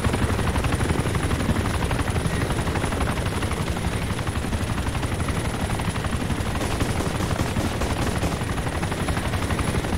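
A helicopter lands in the video game ARMA 2, its rotor thumping in a loud, dense, unbroken chop with engine roar throughout, rapid and close.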